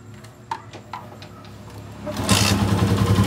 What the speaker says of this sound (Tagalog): Daniel, paandarin mo ngayon motor.